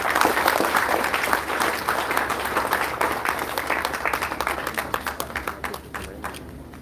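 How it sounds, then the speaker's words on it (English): An audience claps at a university conference's book-release ceremony: a dense, loud round of applause that thins into separate, fading claps toward the end. "Ladies and gentlemen, a clap of appreciation."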